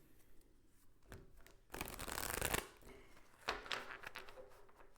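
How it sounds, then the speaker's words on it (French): A tarot deck being shuffled by hand during a reading, with soft rustles and then a dense burst of riffling card flicks lasting under a second, followed by another shorter flurry, quiet and close with no talking. "Je vais brasser encore un tout petit peu plus."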